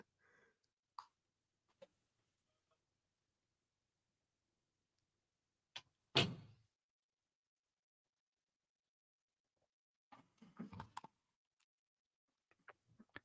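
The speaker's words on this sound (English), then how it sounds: "let me get a second to just shut my door" A door is shut indoors with one solid, close thump after a few scattered small clicks and taps. Further light knocks and rattles follow in an otherwise quiet room.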